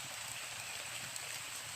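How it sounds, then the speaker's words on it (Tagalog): Light, steady rain hisses softly and evenly, a faint continuous patter with no other clear sounds. "Talagang kahit mahina yung ano, basta tuloy-tuloy yung ulan, basa talaga tayo."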